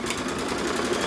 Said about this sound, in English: I just backed the machine up and I'm going to go over it in the red color.